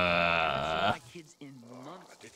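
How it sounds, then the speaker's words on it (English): Goat bleats a long, loud wavering cry up close in the video game Dying Light 2, then a person talks briefly. "Goats? You okay? They'll be fine. They're toughies, goats."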